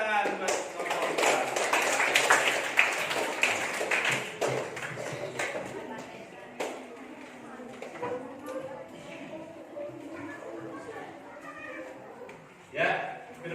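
Classroom applause for a student group after a presentation, a burst of clapping from many hands that fades within several seconds, with talk continuing faintly under it.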